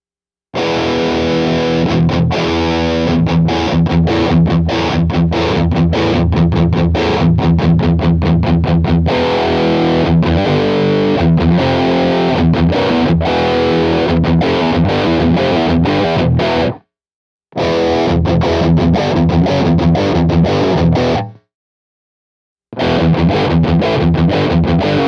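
Heavily distorted electric guitar through a distortion or overdrive plugin, playing chords and riffs, loud and saturated, stopping twice briefly before resuming.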